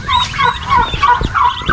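A turkey gobbles near chicks in a backyard setting, a loud, close, warbling burst that repeats in rapid rolling phrases with faint scratching and peeping beneath.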